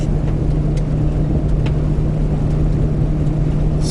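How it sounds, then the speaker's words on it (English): A 2017 Toyota Tacoma TRD Pro drives off-road through deep sand, its engine a steady, loud, low drone with a constant hum and faint rattles from the truck, with no voices. "we're going to go out and bounce around that deep sand and see how this TRD Pro off-road does"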